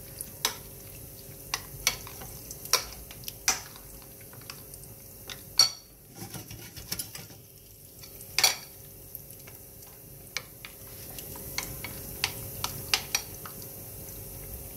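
Sautéed carrots and zucchini being stirred in a pan, with scattered clinks and taps of utensils and dishes over a low sizzle, close and steady without talk.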